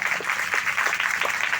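A crowd at a Hindi poetry recitation breaks into applause, a dense, even wash of clapping that runs steadily throughout with a few sharper individual claps poking through.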